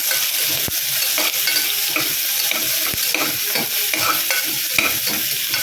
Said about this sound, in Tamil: வெங்காயத்தை நல்லா வதக்கி விடுங்க